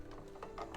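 A card panel being run through an embossing machine, which gives a faint, steady mechanical whir with ratchet-like clicks and a few louder grinding surges across less than a second.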